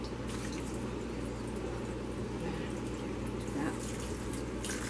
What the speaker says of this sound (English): Run a little more water through here.